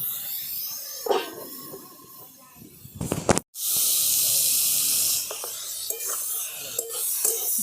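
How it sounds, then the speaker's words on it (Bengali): Ridge gourd and potatoes with salt and turmeric frying in a pan, first a light crackle and stirring, then a loud steady hiss of steam after a lid clatters on, easing to a quieter sizzle with soft knocks. "এবার ভালো করে ভাজা ভাজা করে নেবো।"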